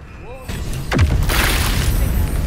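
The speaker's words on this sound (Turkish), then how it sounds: "Ne patladı be?" An explosion in Baldur's Gate 3 on PS5 lands with a deep boom partway through, followed by a sustained rumbling roar, with game sounds before it and no talk over it.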